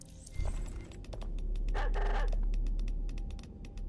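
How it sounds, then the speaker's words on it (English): Border collie in Watch Dogs: Legion giving short, sharp barks close by, with a quick run of clicks and a mechanical whir over a low hum. "Oh my god, it's the fucking dog."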